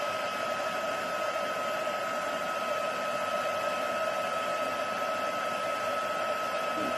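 A heat tool blows hot air for ink blending and embossing powder, giving a steady, unbroken whirring hiss at moderate volume from start to finish.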